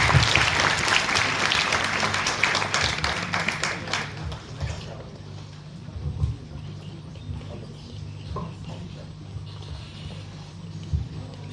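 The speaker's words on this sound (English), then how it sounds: "Give a big round of applause." An audience of students applauds at the opening of an IP awareness session, a loud burst of many hands clapping that thins out after a few seconds, leaving scattered claps and faint room noise.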